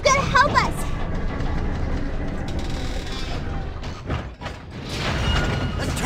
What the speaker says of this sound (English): the case, the train is slowing down. But what's that sound coming from the engine?